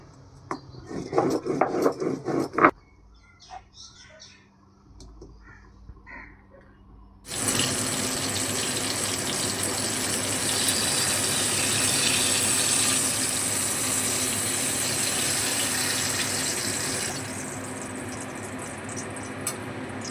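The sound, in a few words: grinding mustard, poppy seeds and chili on a grinding stone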